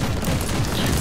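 Gunfire in the video game Warhammer 40,000: Inquisitor, a dense, continuous barrage of booming shots packed into a brief, loud burst with no pauses.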